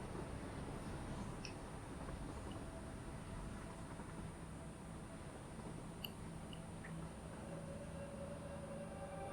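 A train runs on a railway built in the factory-building video game Satisfactory, heard as a faint, steady rolling rumble with occasional light ticks and no talk.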